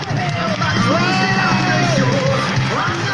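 A crowd at a commented sumo match at the Animasia 2017 convention yells, whoops and cheers loudly in a continuous mass of voices.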